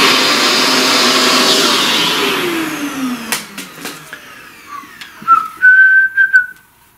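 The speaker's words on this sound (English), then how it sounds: "Alright, let's vacuum." A vacuum cleaner whines steadily for about three seconds, then winds down, followed by scattered clicks and a rising whistling motor tone.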